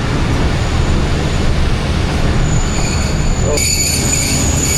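Jaffar Express passenger train standing at a station, its wheels giving a loud, steady rumble that turns into thin, high metallic squealing near the end, with a brief voice at the start.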